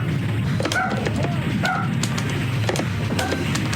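A game dog in the shoot-'em-up Wolf Fang gives a few short, sharp barks over a constant low rumble of engines and explosions.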